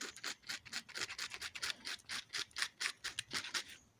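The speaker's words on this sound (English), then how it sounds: "So for that I will pass my trusty old sandpaper." Sandpaper rubbed back and forth along an Alfa Romeo wiper blade, a steady run of quick, close scratchy strokes in an even rhythm with no talking.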